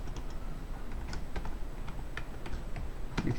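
Keys clatter on a computer keyboard in steady, uneven bursts of close, crisp taps while text is entered for a PowerPoint title slide, with no speech over it.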